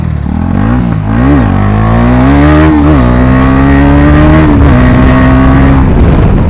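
A KTM motorcycle with its exhaust removed revs loudly and close by, the engine note rising and falling through a few throttle blips before holding a sustained high rev, with no talk.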